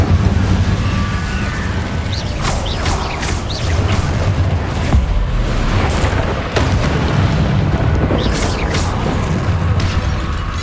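Repeated fiery blasts of the Confringo spell in Hogwarts Legacy, loud booming bursts landing one after another amid other spell effects and crackling combat noise.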